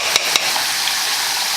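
Homemade potato chips frying in hot oil around 380 degrees while being stirred and moved about, a steady close broadband sizzle with a couple of brief clinks from the stirring.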